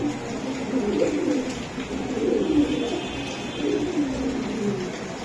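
Giribaz high-flyer racing pigeons coo in steady, overlapping low murmurs, close by, with a faint voice in the background.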